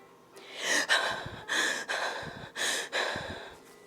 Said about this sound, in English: Did you hear his breathing?